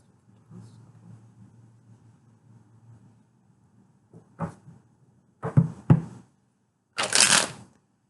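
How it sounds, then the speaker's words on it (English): Tarot cards being shuffled in a few separate bursts: soft riffling that grows louder toward the end, with a loud, crisp final shuffle close to the mic. "Oh, okay, one more shuffle."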